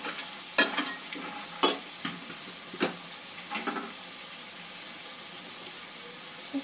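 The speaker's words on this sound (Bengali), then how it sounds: "সবজির সঙ্গে মিক্স করে দেব।" Salt being stirred into vegetables in a pan for a vegetarian papaya dish, with a spoon scraping a few quick strokes over a steady background sizzle, no speech.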